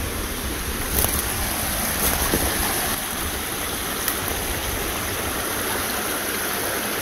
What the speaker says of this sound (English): water's right here, you can hear it